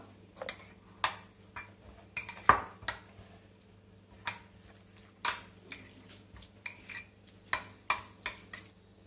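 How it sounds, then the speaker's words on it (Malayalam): Chicken sandwich filling being mixed with mayonnaise in a bowl, giving soft, irregular clinks and scrapes of a spoon against the dish, fairly faint and unhurried over a low steady background hum, with no talking. "ഇത് നമുക്ക് നന്നായിട്ട് മിക്സ് ചെയ്തെടുക്കാം."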